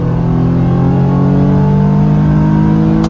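A 2011 Nissan 370Z with a non-charging battery revs hard in a third-gear pull, its engine note loud, close and steady as it climbs for three seconds before cutting off abruptly, with no talking.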